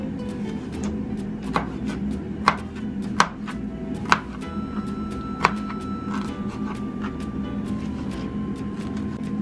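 A knife chops pineapple into small pieces on a board, with about half a dozen sharp, separate knocks spread irregularly over a low background hum, close by, no talking.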